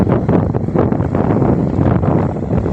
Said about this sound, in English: Sorry about the wind, I don't know how bad the wind is,